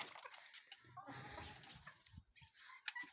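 Bantam chickens clucking and calling in a coop, with a series of short, close clucks and chirps scattered over a few seconds. Quiet overall, with brief gaps between calls.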